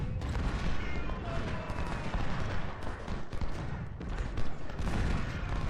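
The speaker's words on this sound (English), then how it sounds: "I'm going to lose them because they're getting hit by that artillery" Artillery fire on a Civil War battlefield in Ultimate General: Civil War at Malvern Hill. A dense, steady barrage of distant booms and crackling volleys rolls on without pause, with sharper blasts now and then.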